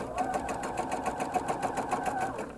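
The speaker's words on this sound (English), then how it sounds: "I'm going to keep sewing on" A sewing machine stitches the collar and neckline of a wrap dress, its needle running in a fast, steady rhythm of close, even pulses with no pauses.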